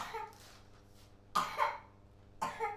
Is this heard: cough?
yes